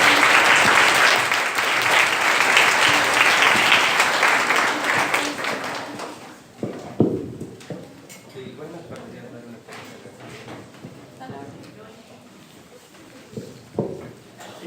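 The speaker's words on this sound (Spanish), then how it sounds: "Un aplauso a Jesús." Audience applause at a national math olympiad (Ñandú) discussion session, dense and loud for about six seconds, then fading into scattered claps, shuffling and murmured talk.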